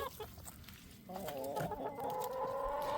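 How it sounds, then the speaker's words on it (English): Backyard chickens cluck and murmur nearby, starting with soft scattered clucks and then swelling into a louder, drawn-out run of calls from one bird. "These are my chickens."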